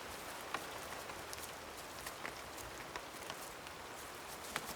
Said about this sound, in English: Only Wilma is prepared to ignore the downpour to forage vigorously for several hours